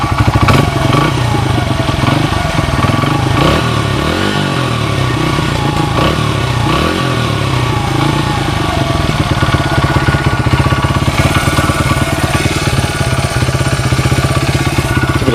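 A 1994 Honda XR100R dirt bike with a freshly rebuilt carburetor runs steadily near the microphone, its small single-cylinder engine idling with a rapid, clattery putter and slight rev changes.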